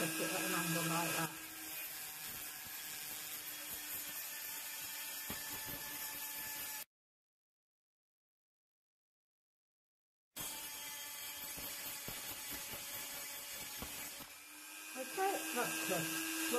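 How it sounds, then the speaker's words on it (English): A glass grinder works the edge of a fused glass piece, giving a steady whirring grind that runs for several seconds, breaks off into silence, then starts again with the same buzzing tone, with no talk. "I'm going to use the grinder anyway"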